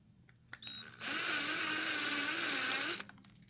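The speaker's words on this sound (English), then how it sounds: "You have less of a chance of breaking the drill bit and gives it a chance to work." An electric drill whirs steadily for about two seconds, boring out a rivet on a 1/64 Hot Wheels diecast car, spinning up and winding down at close range.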